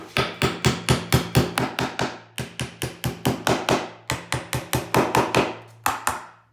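Rapid, sharp claw hammer blows striking nails while building a birdhouse, dozens of ringing hits in quick bursts with brief pauses between runs.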